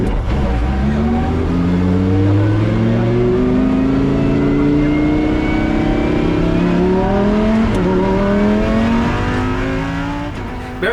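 Lamborghini Huracan Super Trofeo race car on the Valencia track, its engine loud and close, climbing repeatedly through the revs with rising pitch sweeps as it shifts gears and accelerates.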